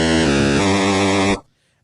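A loud, harsh buzzing Atari game tone from Pitfall with a wavering pitch sounds for just over a second, then cuts off abruptly into silence.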